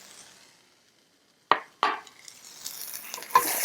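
Shrimp simmering in sauce in a pan are stirred, giving a few sharp clacks and scrapes of a utensil after a quiet start, followed by a soft bubbling sizzle, close and moderately loud.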